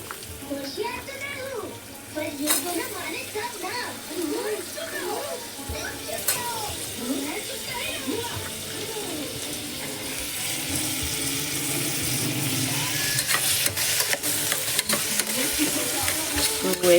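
Tomatoes and potatoes fry together in a pan, giving a continuous sizzle that grows louder and brighter toward the end, with occasional clinks of stirring, while someone speaks over it.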